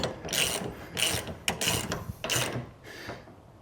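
A ratchet tightens bolts during a Gen-Y GoosePuck 5-inch offset OEM puck system install on a 2026 Ram 3500 Mega Cab. It makes about five close bursts of rapid metallic clicking with short pauses between them, and no talk.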